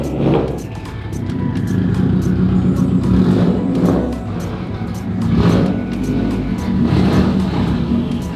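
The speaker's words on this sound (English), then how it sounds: "I'm going to pull the Subaru into the garage here" A Subaru VA chassis car drives slowly into a garage. Its engine rumbles nearby and swells in a few mild revs and surges over several seconds, and no one speaks.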